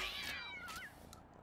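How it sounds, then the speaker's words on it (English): A small cat in a video game gives a single drawn-out meow, faint and close, its wavering tone rising and falling before trailing off. "Aw, look at that little kitty."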